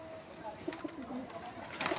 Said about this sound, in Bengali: সব পায়রা বার হয়ে যাচ্ছে।